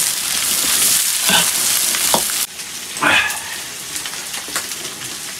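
Crayfish tails with scallion, ginger and garlic stir-fried over high heat in a wok, a steady loud sizzle with bursts of scraping and tossing, no talking.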